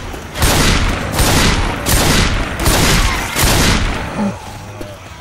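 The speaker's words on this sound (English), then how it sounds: "Throwing a pipe bomb." A Left 4 Dead 2 pipe bomb goes off amid a dense barrage of loud, evenly spaced blasts, five heavy booms roughly a second apart, each a broad crashing burst, ending in quieter scattered gunfire.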